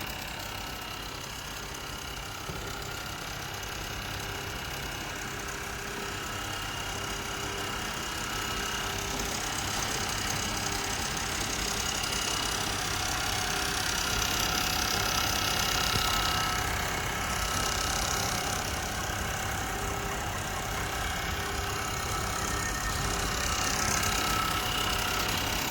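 A computer-controlled automatic nylon zipper sewing machine with thread tensioning runs on its own, giving off a steady, fairly quiet mechanical whir and fine rapid ticking that holds constant for a long stretch.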